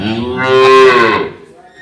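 A Jersey and Red Friesian cross dairy cow on a farm gives one loud, close moo that rises and fades over about a second, with no voices.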